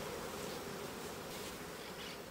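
Bees buzzing steadily near pastures in Buenos Aires province, a soft continuous insect drone holding even for a few seconds with no voices.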